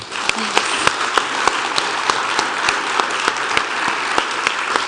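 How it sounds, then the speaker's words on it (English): A congregation at a church gathering applauds in a steady, even wash of clapping, with a few sharper individual claps standing out across the whole stretch. "Let's give one more round of applause to Casey."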